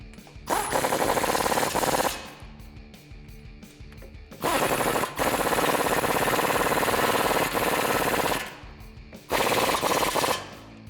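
A 21 mm swivel socket tightening strut bolts on a 2014-2020 Ford F-150 during a leveling strut extension install: three loud, sustained rattling bursts of a power tool, separated by short pauses.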